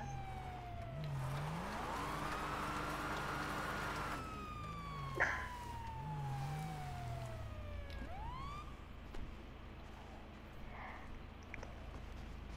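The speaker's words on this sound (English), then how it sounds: "you just came out of nowhere with the sirens on" Police car siren in GTA 5, wailing and yelping in rising and falling sweeps over steady traffic and engine noise, fairly loud and continuous with a few brief knocks.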